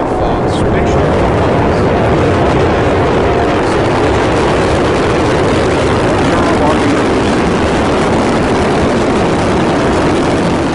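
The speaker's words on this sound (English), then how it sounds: "T-minus 10, 9, 8, 7, 6, 4, 3, 2, 1, and liftoff on Spaceship" Spaceship rocket liftoff: a sustained, loud, broadband roar that stays dense and steady throughout, with a rumbling low end and no clear pauses.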